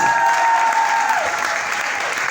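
Crowd applause at a lively Congolese music or comedy performance, a dense continuous clapping wash lasting a couple of seconds, with a sustained whistle or tone fading partway through.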